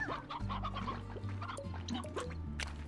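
Chickens in the video game Slime Rancher, several quiet clucks and short calls repeating irregularly over a low droning game background, with no talk.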